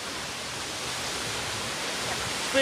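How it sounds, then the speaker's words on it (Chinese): A 70-metre waterfall on Doi Inthanon mountain in Thailand, heard as a steady, broad rushing roar of falling water that holds even and unbroken throughout, with no voices over it. "这个瀑布还是蛮壮观的"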